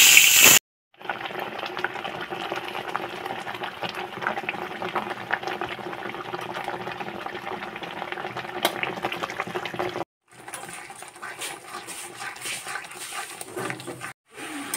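Masala fries in hot oil in a kadai with a continuous bubbling hiss, close and even, broken by two abrupt short silences; no speech.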